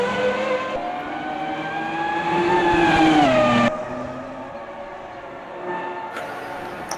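Race car engine in an Imola racing video game as the leader pits, a loud sustained whine shifting pitch as it slows down the pit lane, then a steady lower drone with a brief rise near the end.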